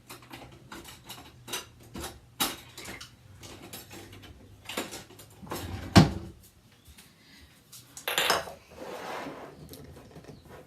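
Dishes and cutlery clatter and clank in a kitchen drawer in a string of sharp, irregular knocks and rattles, with one loud crash and a longer jangle near the end.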